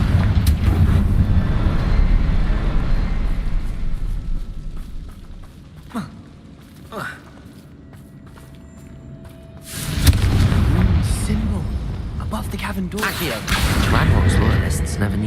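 Booming blasts of the Confringo fire spell in the game Hogwarts Legacy, loud bursts with a quieter stretch in the middle before another explosive surge and more rumbling hits.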